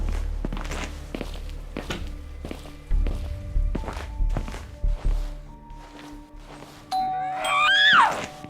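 A doorbell chimes near the end, rising in a bright ding-dong after a run of close footsteps and thumps indoors.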